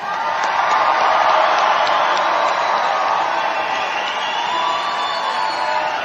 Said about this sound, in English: let's give a round of applause to all of our veterans